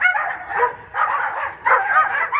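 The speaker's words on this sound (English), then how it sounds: "Just shut those dogs up." Dogs outdoors in the snow bark and yip in three close, bursty bouts, loud and near, with whiny edges between the barks.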